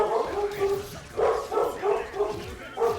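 A dog inside a house gives repeated yips and barks in a loose rhythm, about five bursts at moderate volume, mixed with people talking.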